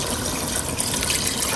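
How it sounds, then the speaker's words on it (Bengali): Water is poured into meat that is slowly cooking, making a brief, steady splashing gush that is moderately loud and heard alone. "এদিকে মাংস পানি দিচ্ছে"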